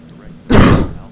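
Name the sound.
cough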